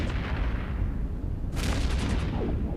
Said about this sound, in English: Scrambled webs, the Barrage implant on. Full DPS.